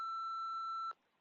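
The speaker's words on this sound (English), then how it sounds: "wait for the beep and leave us a message." A single clean electronic answering-machine beep in a Nancy Drew mystery video game, a steady tone held for just under a second before cutting off.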